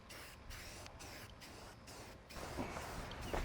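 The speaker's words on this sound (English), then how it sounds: "I'm gonna spray these black" Steady hissing spray from a can of black spray paint, broken by short pauses into several bursts, fairly close.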